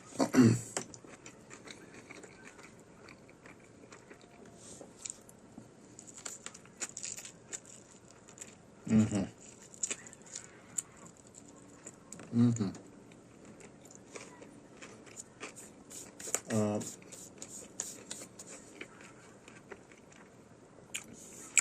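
Triangle sandwich eaten close to the mic, with four or five sharp bites and crunchy chews separated by quiet pauses and faint clatter.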